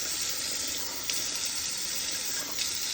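Tap water runs into an emptied tomato sauce can while making spaghetti sauce, a steady close hissing stream that continues unbroken for the whole stretch with no talk.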